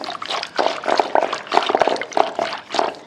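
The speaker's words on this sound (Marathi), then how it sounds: "आता आपण यात पाणी घालू" Water poured into whisked plain yogurt while making mattha buttermilk, a close, soft liquid splashing and gurgling in short uneven bursts with no talk.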